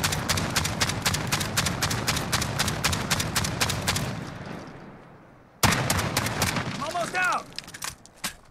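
A Fostech Origin-12 shotgun fires in Call of Duty Modern Warfare as a rapid, evenly spaced string of loud shots. A brief silence follows, then another quick burst with mechanical clatter and short chirping tones.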